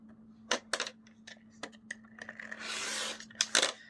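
Paper being cut down to 4 1/4 inches for a notebook setup: a series of close, crisp snips and scraping strokes, with one longer rasping cut in the middle and sharp clicks at the end.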